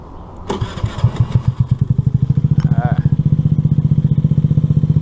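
A Honda NAVI scooter engine with the choke on cranks with a few heavy thumps, catches and settles into a steady rapid putter, loud and close, with no talk over it.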